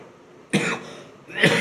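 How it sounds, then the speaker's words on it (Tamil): A person coughing twice, close and fairly loud, with two short, harsh bursts about a second apart against a quiet background. "இருமல் வருது"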